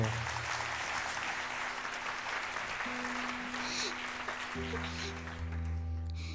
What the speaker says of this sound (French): Le petit âne gris et Léa, que vous applaudissez bien fort